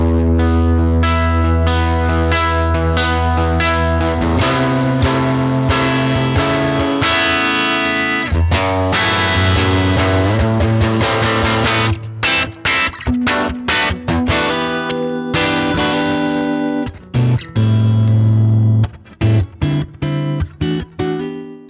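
A Gibson SG with humbucker pickups plays through a Fender Tonemaster Princeton Reverb amp, ringing chords and single notes with effects, then choppy stops and restarts, loud and alone.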